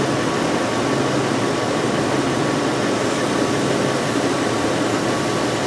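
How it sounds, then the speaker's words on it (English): A 2005 VW Touareg 4.2L V8 idles with a large vacuum leak, a loud, steady broadband hiss and rumble that holds constant for several seconds with no voices. "Huge vacuum leak right now."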